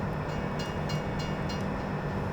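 A train runs through a rural Australian setting in Farming Simulator 17, giving a steady, loud rumbling drone with faint periodic clicks on top, continuous and with no talk.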